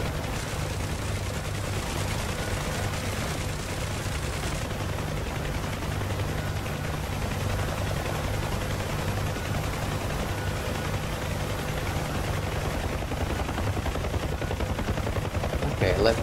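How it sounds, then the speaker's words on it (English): Sustained machine-gun fire rattles from a UH-1H Huey helicopter in the DCS flight simulator, dense and continuous over the steady low drone of the rotor, with a voice talking at times underneath. "Let me fire a few rounds."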